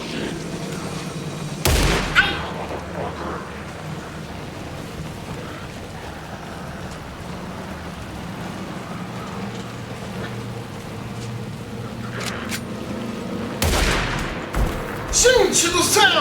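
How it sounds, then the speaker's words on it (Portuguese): Gunfire in the video game Alan Wake 2, with sharp loud shot bursts near the start and again near the end over a rumbling game soundscape. "Eu tô levando tiro!"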